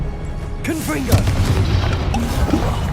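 A Confringo blasting spell in Hogwarts Legacy sets off a loud boom with crashing debris, mixed with a shouted voice and scattered bursts of game sound.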